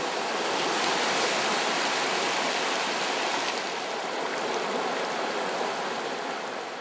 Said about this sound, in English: Look at it, there's another surge coming through now.